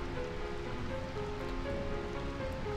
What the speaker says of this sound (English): I find this rain quite pleasant. It feels as though the raindrops are blessing our victory.